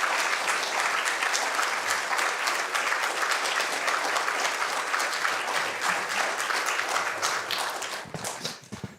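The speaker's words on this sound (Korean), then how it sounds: "나올 때 그 누구보다 큰 박수로 해주시고" A church congregation at a Korean worship service breaks into loud, dense applause, a continuous roar of many hands clapping that holds steady and then tapers off and stops near the end.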